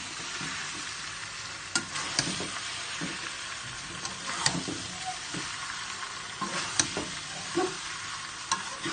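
Olives fry in oil in a small wok while being stirred, giving a continuous close sizzle broken by repeated scraping and clinking strokes of a spoon against the pan, with no voices.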